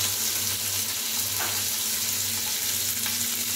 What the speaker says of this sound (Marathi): आणि त्याला जरा परतवायचं आहे